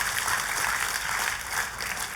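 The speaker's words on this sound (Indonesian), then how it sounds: "Kita kasih tepuk tangan yang meriah buat Tuhan." Warm, steady applause from a church congregation praising God during a sermon, a dense continuous patter of many hands close by with no voices over it.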